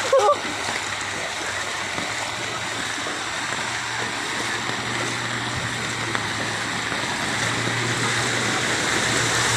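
Flood water in front of a house is splashed and stirred, giving continuous watery sloshing and spattering with a sharp splash at the start and a low steady hum beneath.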